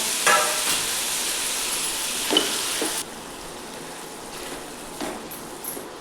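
Onion, tomato and coriander leaves sauté in a pan with a steady soft sizzle, a few stirring scrapes cutting through, the frying dropping quieter halfway and continuing faintly alone.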